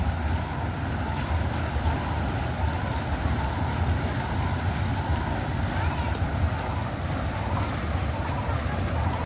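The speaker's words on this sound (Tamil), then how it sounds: "அந்த டேமோட சவுண்டு" Water rushes steadily and loudly over a dam, a dense unbroken roar from close by.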